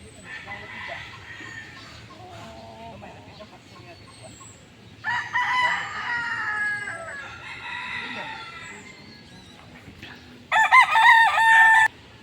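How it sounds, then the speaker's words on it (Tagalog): Several chickens cluck and squawk over a low murmur, ending with a loud, close rooster crowing. "Dami mga manok nito guys, ang ingay."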